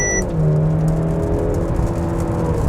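A 2022 Mercedes-Benz C 300 4Matic accelerates onto a highway, heard from inside as a steady loud engine hum and road noise with a rising whir, no talk.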